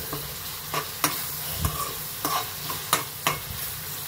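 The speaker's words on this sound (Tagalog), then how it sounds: "Igisa muna natin mga idol nang lalabas yung aroma ng sibuyas at bawang." Onion and garlic sautéing in a pan, a steady sizzle with regular spatula scrapes and stirring knocks about every half second to second, close and alone.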